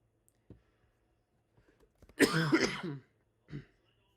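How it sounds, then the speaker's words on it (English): A single harsh cough or throat-clearing burst, close and fairly loud, with a couple of soft clicks before and a short second cough after, during live commentary of a Boston Bruins vs Winnipeg Jets hockey game. "I'm going to be coughing all game long."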